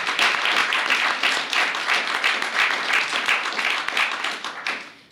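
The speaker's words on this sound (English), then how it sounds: "you could give her a round of applause" Applause from an audience at a swearing-in ceremony for a Secretary of Commerce, greeting his wife: dense, steady clapping carries on close and loud for about five seconds, then thins out and fades at the end.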